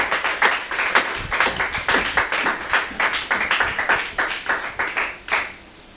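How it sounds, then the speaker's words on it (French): Congregation applauding during a French church sermon: brisk, dense clapping from many hands, loud and steady, dying away abruptly near the end. "Applaudissons très fort."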